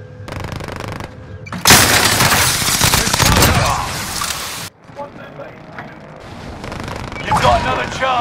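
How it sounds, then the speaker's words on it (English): Enemy gunfire in Call of Duty on Rebirth Island rattles in loud automatic bursts and heavy blasts, dense at first and then sporadic, with a voice speaking underneath. "The enemy is firing at me."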